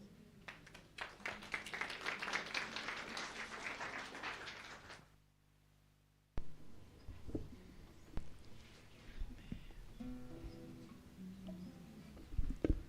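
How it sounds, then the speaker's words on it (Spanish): A Sunday church congregation claps for the music group, with quick, dense applause for roughly five seconds. Then a short silence follows before scattered quieter room sounds and a voice. "Nuevamente pedirles un voto de aplauso, ¿no?, para el grupo."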